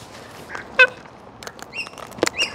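Wild cockatoos give a few scattered honking, squawking calls, one louder cry standing out over quiet outdoor background noise.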